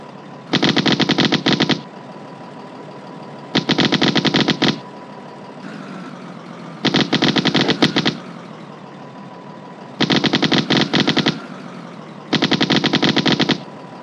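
Game gunfire in Firefight comes as five separate bursts of rapid machine-gun fire, each lasting about a second, set apart by short gaps over a low engine hum.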